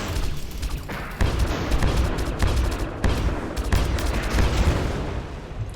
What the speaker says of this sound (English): I'm using a flat cannon at like long range distance,